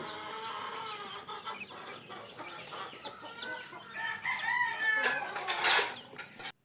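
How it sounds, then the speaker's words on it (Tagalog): Newly hatched chicks peep and chirp in a warmed cardboard box, a busy overlapping chorus of thin cheeps close to the microphone that grows louder near the end. "Sumisigla ang mga sisiw na yan kapag naiinitan."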